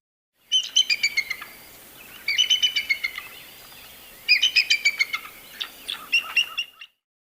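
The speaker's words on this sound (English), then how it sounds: "bald eagle," Bald eagle calling in three or four bursts of high, chattering, piping notes, each run descending in a rapid series, loud and close with no other sounds.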